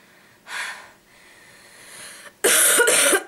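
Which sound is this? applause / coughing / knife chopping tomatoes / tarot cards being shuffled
coughing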